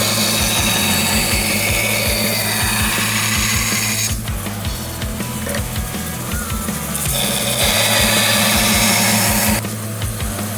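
A Brodbeck Pirate belt sharpener grinds a knife edge on a 240 grit belt, a loud, continuous abrasive whir with a rapid rhythmic thumping underneath that holds steady throughout, no voices.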